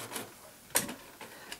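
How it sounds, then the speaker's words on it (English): A Canon PRO-200 inkjet printer producing an A3+ colour print, with a few brief mechanical whirs and clicks close by, one sharper burst in the middle and quiet pauses between. "Printer does its normal bit of whirring and stuff that printers do"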